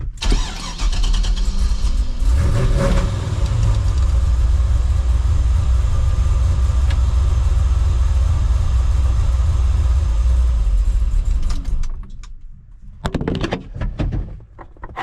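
A truck engine runs loudly and steadily at close range for about twelve seconds, the clutch slowly losing pressure from a leaking slave cylinder, before the engine stalls and cuts out, leaving brief quieter mechanical noises.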